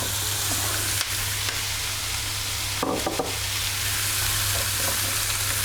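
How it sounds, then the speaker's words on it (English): Peppers fry in a pan with a steady, close sizzle that runs the whole time, and a few brief clatters of stirring break through near the middle. "I'm just going to fry those for a couple of minutes as well."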